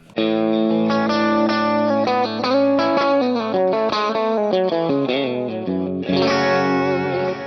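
Distorted electric guitar played through a Kemper amp profile of a large 50 to 100-watt power section, with a continuous run of loud, sustained chords and riffs that changes character near the end, and no voice.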